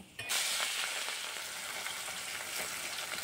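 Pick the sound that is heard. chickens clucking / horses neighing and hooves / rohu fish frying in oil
rohu fish frying in oil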